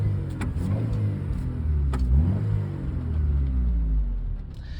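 A 1993 Honda Accord converted to run on LPG, its engine running steadily with a low, even rumble and a slight rise in revs partway through, close by with no talk.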